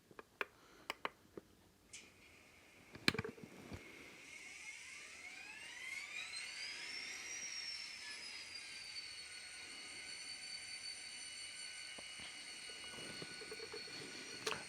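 A ScaleTrains N scale SD40-2 model diesel locomotive starts up and runs in notch, with a few clicks and knocks at first, then a rising whine that settles into a steady, sustained electronic engine drone.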